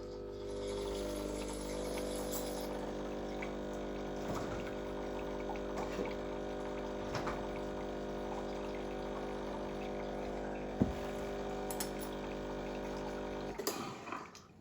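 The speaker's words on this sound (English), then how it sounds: "This will give me hot water into the cup, through the handle, through the basket." A Breville Barista Express BES870 espresso machine runs a hot-water blank shot through the portafilter and basket, its pump droning steadily and loudly for about fourteen seconds before cutting off abruptly near the end.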